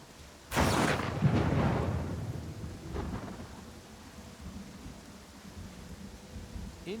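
A thunderstorm in the video game Pathfinder Kingmaker breaks with a sudden loud, rolling thunderclap that rumbles and fades, followed by a fainter second rumble over a steady bed of rain.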